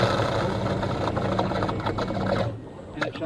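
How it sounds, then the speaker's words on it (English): A fire truck pump runs flat out, a dense, steady mechanical drone with a rapid chattering texture, close and loud, easing off slightly near the end. "And that's the sound of the pump running."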